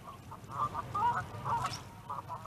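Geese and ducks on a lake or pond in Milton Keynes honk and quack in a string of repeated calls, moderately near, over a low outdoor rumble.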